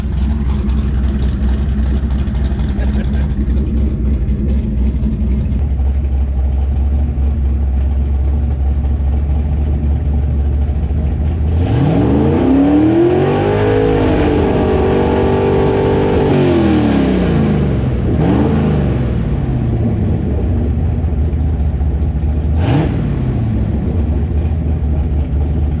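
A smoking 339 small-block Chevy V8, a stroked 305, idles with a loud, steady, lumpy rumble, then revs up and back down in a rising and falling sweep before settling to idle again.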